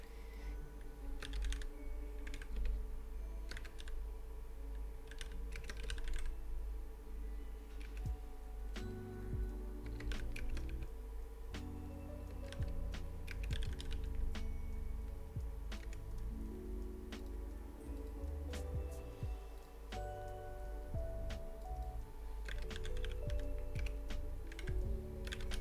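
Typing on a computer keyboard, a continuous run of quick light key taps with brief pauses, close by over a low steady hum and faint background music.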